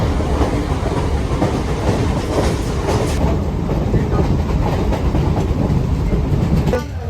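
A train rumbles steadily past a station platform with loud, continuous clattering of wheels and cars. Faint voices mix in, and a brief squeal rises near the end.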